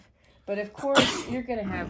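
A single sneeze bursts out close by in the middle of conversation, with people talking just before and after it.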